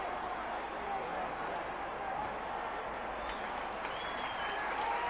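Crowd cheering and applauding inside the Santiago Bernabéu stadium as a football player walks onto the pitch, a steady distant roar of the stands lasting throughout.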